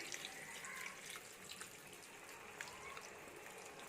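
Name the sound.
water poured into curry pot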